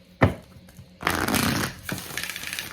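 An oracle card deck is shuffled in quick bursts, a sharp riffle followed by a longer rustling flutter, close and fairly loud with no talking.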